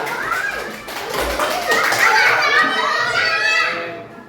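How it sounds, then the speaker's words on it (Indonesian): Schoolchildren in a classroom clapping for a group that has finished its work, lively uneven applause mixed with children's chatter and cheering, close and fairly loud, fading toward the end. "Tepuk tangan dulu buat kelompoknya mawar."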